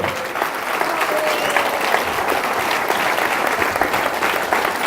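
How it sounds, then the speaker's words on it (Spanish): Loud, sustained applause from a large church congregation, a dense even patter of clapping that continues throughout. "Denle un aplauso fuerte al Señor."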